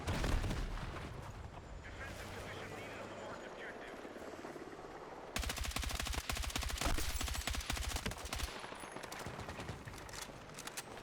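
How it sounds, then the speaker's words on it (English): Gunfire in the video game Battlefield 6 on the Eastwood map during a Conquest match, with bursts and rattling automatic fire over a dense battlefield din and someone talking throughout. "All right, now I'll actually shoot enemies."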